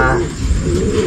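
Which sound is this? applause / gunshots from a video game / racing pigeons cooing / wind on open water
racing pigeons cooing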